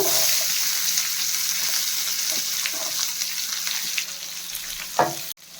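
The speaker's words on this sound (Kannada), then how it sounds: "ಆನಿಯನ್ ಎಲ್ಲ ಸ್ವಲ್ಪ ಚೆನ್ನಾಗಿ ಫ್ರೈ ಆಗಬೇಕು." Chopped onions fry in oil in a pan for a brinjal curry, making a continuous loud sizzle with a few faint stirring scrapes and one sharper clatter near the end, with no voices.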